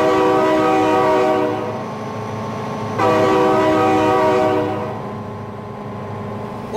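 Train in the driving game BeamNG approaching with a loud, sustained multi-tone horn, blasting twice over a rumbling engine and rolling rail noise that stay close and steady.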